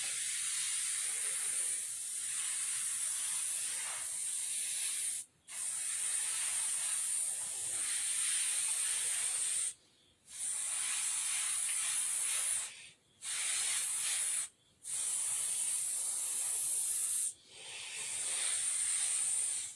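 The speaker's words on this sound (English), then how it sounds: "Just a simple China airbrush. It's just all about knowing how to control the air and the paint." A cheap airbrush sprays paint onto latex foam hand appliances, giving a steady close hiss of air broken by a few brief pauses where the trigger is released.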